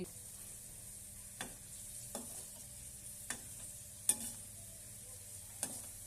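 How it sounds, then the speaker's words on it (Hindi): Raisins roast in a pan with a faint, steady sizzle, while a spoon stirs and taps against the pan every second or so. "देखिए हमारी किशमिश भी अच्छे से भून गई है।"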